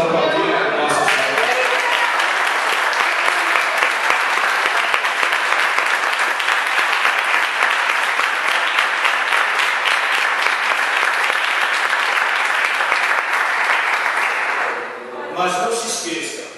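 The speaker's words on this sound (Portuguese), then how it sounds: "Vamos aplaudir a nossa Senhora" A church audience applauds steadily for over fourteen seconds, a dense, loud wash of clapping that fades near the end as talk resumes.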